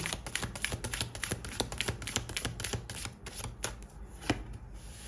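Oracle cards being shuffled for a tarot reading, with a rapid run of soft papery taps and riffles that stays close and steady throughout, no voice heard.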